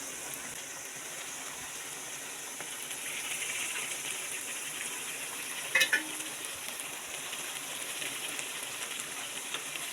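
Tomatoes added to a hot pan, a steady soft frying hiss throughout with a brief sharper crackle midway, moderately quiet and without talk.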